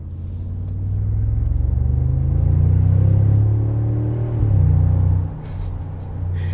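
A 2025 Mercedes-AMG G63 with a 577 hp biturbo V8 pulling out onto a highway, engine rumble building and holding low and strong, easing briefly then surging again before settling.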